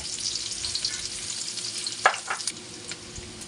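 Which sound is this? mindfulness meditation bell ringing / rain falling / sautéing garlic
sautéing garlic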